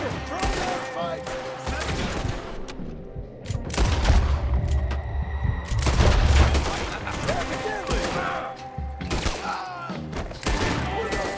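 Gunfire in Red Dead Redemption 2 crackles in repeated volleys of close, sharp shots with heavier booming thuds, mixed with game music and voices talking.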